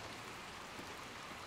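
Steady rain in the video game Little Nightmares II, a continuous broadband hiss of falling drops and surface patter filling the scene at a constant, fairly faint level with no speech.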